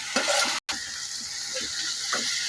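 Boiled carrot and cauliflower are stirred in a pan for a cauliflower egg curry, a steady close sizzle with soft scraping strokes of the spoon and a brief dropout midway; no one speaks.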